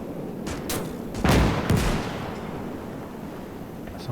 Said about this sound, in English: So I'll click that artillery support, requesting fire.